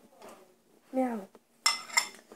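Tomato salad being stirred together with tomato juice in a bowl, with soft scraping and clinking of a utensil against dishware in a few separate bursts, quiet and close, alongside a speaking voice.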